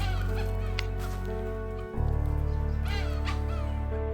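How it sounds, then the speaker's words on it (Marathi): A wild junglefowl crows loudly a couple of times over a constant low hum, its harsh calls rising and falling, at the start of a trek near Vasota. "ट्रेकच्या सुरुवातीला आचा रानटी कोंबडा दिसला"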